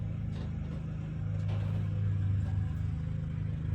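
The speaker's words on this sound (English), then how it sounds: "Sorry about the noise. My neighbor's out there mowing" A neighbor's lawn mower drones steadily and low in the background, muffled from outdoors, swelling slightly midway, with faint clatter in a kitchen.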